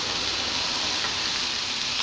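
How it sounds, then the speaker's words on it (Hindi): Chopped onions frying in a pan give off a dense, constant hiss and crackle, close and loud throughout, with no voices. "अब हम इसमें कटे हुए प्याज डालेंगे, इसे भी हल्का सा भूनेंगे।"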